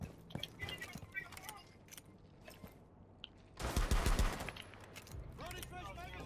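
Gunfire in the tactical shooter game Rainbow Six Siege: a dense, loud burst of rapid shots about midway, with scattered quieter shots around it and players talking over much of the action.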